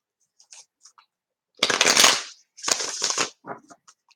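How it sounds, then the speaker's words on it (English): Two quick riffle shuffles of a deck of cards, close and crisp, each a dense rustling burst lasting under a second, with a few faint taps and handling sounds before and after. "2 more shuffles."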